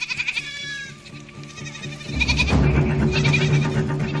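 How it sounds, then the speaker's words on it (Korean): Goats bleating on a Philippine coconut farm, several wavering calls over a busy outdoor background that grows louder partway through. "염소들은 평화롭기만 하다."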